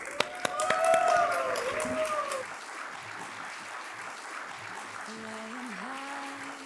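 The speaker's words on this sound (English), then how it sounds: "Please give a warm round of applause for Bangkok Aerospace." Audience applause welcomes the Bangkok Aerospace performers onto the stage at a large conference, steady moderate clapping across the hall while a voice and tonal sounds drift over it.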